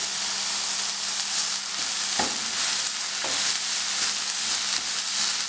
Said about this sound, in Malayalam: എല്ലാം കൂടെ നന്നായിട്ട് വഴറ്റുക